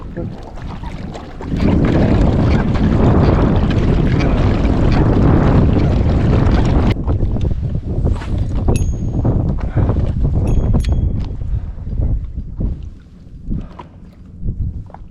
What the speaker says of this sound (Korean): 지금 저는 바람이 세져가지고